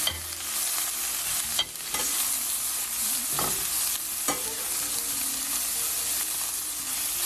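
Long beans fry with mustard seeds, oil and onion over a low flame in a pan, a steady close sizzle with occasional scraping stirs and spoon knocks against the pan.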